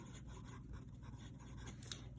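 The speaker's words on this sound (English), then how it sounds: "So maybe I'm going to write that over here." Pen writing on paper beside notes about flag sewing, a soft continuous scratchy scribble that stays faint and close, with no talking.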